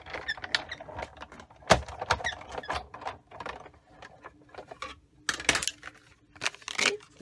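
A die-cutting machine cranked through with a scallop die between plates for a floral window card: irregular close clicks, ratcheting creaks and crinkly plastic handling noises, with brief louder bursts near the end.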